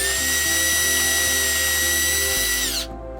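A power drill with a 9/64 inch bit runs at a steady high whine while boring out a wooden light pull blank for woodturning, continuous and close, then winds down and stops near the end.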